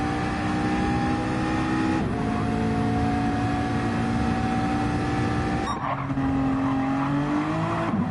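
Race cars in a racing game, including a Honda and a McLaren, scream past at high revs, a loud continuous engine whine with gear-shift drops and shifting pitch as cars pass; no talk heard.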